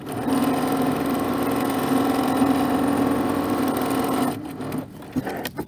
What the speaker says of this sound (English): I'm going to now sew across the bottom just a single layer of fabric at 1/2 inch